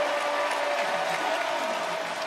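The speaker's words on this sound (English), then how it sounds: "And the patrons finally have something to cheer about." Stadium crowd roaring after a made field goal at a Central Michigan vs Michigan State college football game, a loud dense wash of cheering held steady throughout.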